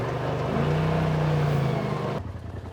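A Polaris side-by-side off-road vehicle accelerates with a steady, close engine drone that holds strong, then drops off sharply near the end.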